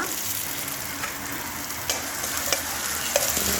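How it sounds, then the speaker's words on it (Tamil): Chopped onions and dried red chillies fry in oil with a steady close sizzle, and faint stirring scrapes and taps come through now and then. "நல்லா ஃப்ரை பண்ணிக்கலாம்"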